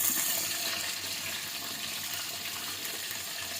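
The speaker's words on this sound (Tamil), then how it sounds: "இந்த மாதிரி நீங்கள் எண்ணெயில் வெங்காயம் போடும்போது சவுண்டு வந்தாதான் எண்ணெய் நல்லா காஞ்சிருக்குன்னு அர்த்தம்." Chopped onions sizzle in hot oil for biryani, a steady close hiss and crackle that is strongest at the start and then settles into an even, moderate frying noise with no talking.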